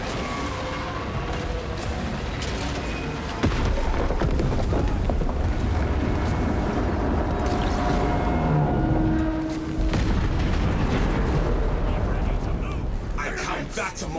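Explosive charges detonate in the Space Marine 2 video game, a dense roaring blast that swells suddenly and rumbles on with heavy low-end crackle and debris amid continuous battle noise, while voices speak over the din.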